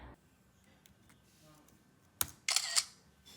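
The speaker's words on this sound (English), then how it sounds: "a camera shutter sound will play." A macOS screenshot camera shutter sound fires as a sharp click, followed a moment later by a brighter, louder double-snap burst, all against quiet background hiss.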